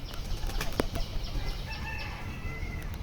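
Pigeons flap their wings in quick, sharp bursts close by, with a few brief flurries among softer fowl sounds in a loft with young birds.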